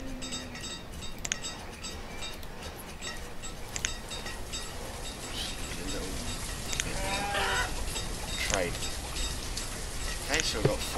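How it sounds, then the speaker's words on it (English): Sheep bleating in the farming city-builder game Banished, several short animal calls scattered over steady ambient game sounds with faint background noise throughout. "so we've got four sheep."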